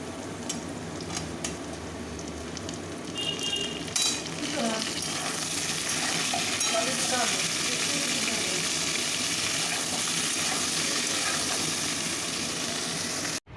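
Okra (bhindi) drops into hot oil in a pan and the sizzle surges into a loud, steady hiss, with a few stirring scrapes, close up.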